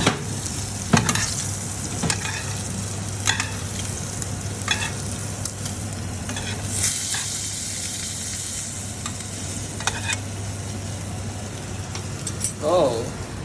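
A steak sears in a hot pan with a loud, continuous close sizzle, broken by occasional clicks and a few utensil scrapes, while someone talks now and then.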